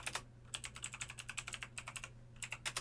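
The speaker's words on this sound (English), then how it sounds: "I see you're typing a second sentence" Quick bursts of keystrokes on a computer keyboard, clustered clicks in uneven runs with short pauses, close and quiet over a low steady hum.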